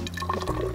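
Water mixed with adherent is poured into a measuring vessel, a brief close splash and gurgle of liquid lasting under a second.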